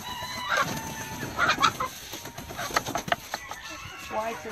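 Welsummer chickens in a hatchery flock cluck and squawk in irregular bursts, fairly close, with other birds calling in the background and some human voices mixed in.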